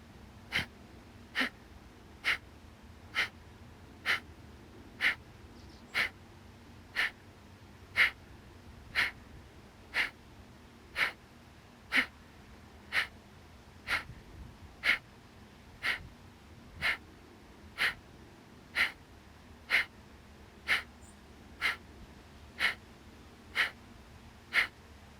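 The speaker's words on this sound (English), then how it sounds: "Inhale through your nose. Big audible exhale." Deep yoga breathing, each inhale through the nose followed by a big audible exhale, about two dozen sharp regular breaths at roughly one per second, close and fairly quiet, with no talking.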